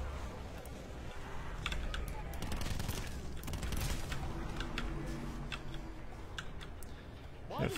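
Rapid bursts of KN-57 rifle fire in a video game, a dense string of sharp shots over a steady background, with clicks and creaks scattered through.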